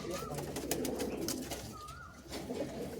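Madras and Giribaz pigeons at a home loft coo softly and repeatedly nearby, low burbling calls mixed with faint chirps and background household noise, with no clear talk.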